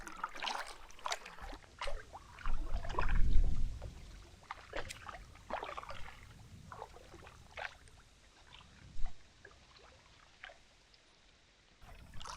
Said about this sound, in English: I've been paddling for a couple miles at this point.